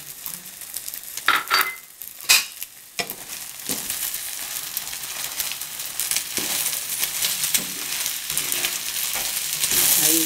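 Broad beans, corn, parsley, spring onion and tomatoes stir-frying in a pan with a steady close sizzle, a few sharp scrape-and-clatter bursts early on, then continuous hissing frying that swells toward the end, no talking.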